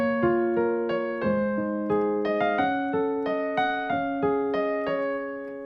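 A solo piano plays a short section of a song in an easy arrangement, with gently struck repeating chord patterns over held low notes at an even pace, close and clean with no voices.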